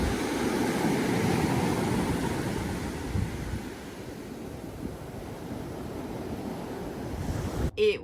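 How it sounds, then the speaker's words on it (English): Surf rolls continuously onto Taharu Beach, a black sand beach in Tahiti, as a broad steady wash of waves with some wind noise, louder at the start and easing off, ending with a brief handling bump. "Taharu Beach, which is black sand beach in Tahiti."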